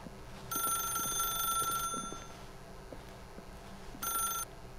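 In The Stanley Parable, a telephone rings with a bright electronic trill. A long burst is followed by a pause and then a second, shorter burst over a quiet background.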